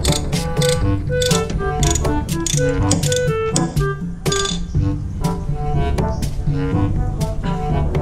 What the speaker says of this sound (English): kita akan buka skru ni satu, kemudian twist dia